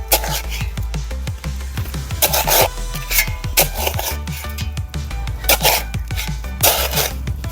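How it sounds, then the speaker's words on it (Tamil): A hand tool scraping the soil around the pit of a rose plant, heard as repeated gritty rasping strokes with light crunchy ticks, close and steady in an uneven rhythm, with no clear talk. "நம்ம ஃபஸ்ட்டு வந்து குழியை சுற்றிலும் வந்து செதுக்கணும்."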